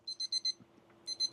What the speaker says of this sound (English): we've got the alarm going off, and you can see it beeping there